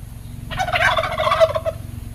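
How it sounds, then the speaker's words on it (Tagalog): A turkey gobbles once, a loud rapid rattling call lasting about a second against a low background hum, close by and with no speech over it. "Ay, Pabo naman yung sumagot."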